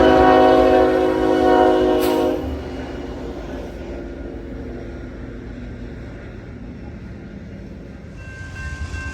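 A freight train rumbles past loudly, a horn sounding near the start, then the roar fades to a steady distant rolling.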